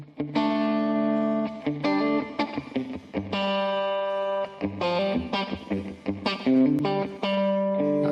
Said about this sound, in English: the delay is creating really almost as much effect as we need